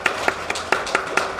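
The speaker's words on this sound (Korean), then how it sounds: "우리 박수로 환영하겠습니다" Congregation at a Sunday church service clapping to welcome first-time visitors, a sparse rhythm of separate claps at a moderate level rather than a dense ovation.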